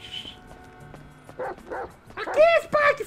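A dog in the game GTA V gives a few short, sharp barks and yelps, louder near the end, amid talk.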